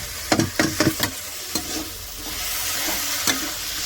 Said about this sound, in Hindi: मसाला जो है अच्छी तरह से मिला रहे हैं।